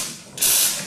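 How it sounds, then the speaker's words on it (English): Steam wand on a Quick Mill espresso machine bursts into a loud, steady broadband hiss after a brief quiet moment, close up and continuing to the end. "always remove the condensed water before you steam"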